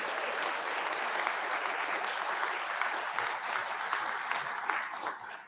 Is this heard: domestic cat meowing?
no